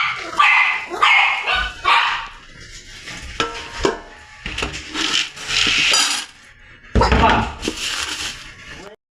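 Dogs bark and yip in short bursts close by, waiting to be fed, mixed with people talking and some rubbing, scraping noises.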